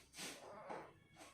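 A female cat in heat yowls in a few drawn-out, wavering cries, faint and somewhat distant, with no talking.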